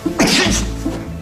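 A single loud, close sneeze with a sharp burst of breath, over a low background hum.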